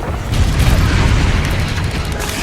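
Spell explosions from Bombarda and Confringo in Hogwarts Legacy: a loud, dense, sustained rumble of booming blasts, heavy in the low end, with no speech.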